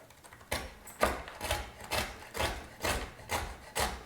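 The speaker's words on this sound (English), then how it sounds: "the sound of cutting pecans is really pleasing to my, it's very ASMR for me" A knife chops through crunchy candied pecans on a board in a close, crisp series of about eight evenly spaced crackling cuts, each a short crunchy burst, with no talk.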